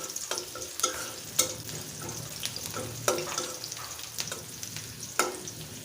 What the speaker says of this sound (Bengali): সেখানে পেঁয়াজ কুচি আগে দেওয়া ছিল তাকে বেরেস্তা ভেজে নিচ্ছি